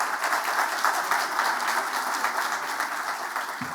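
Dense, continuous applause fills a hall as an audience welcomes Colombian football coach Francisco Maturana to receive a tribute award, an even, loud ovation with no voices standing out.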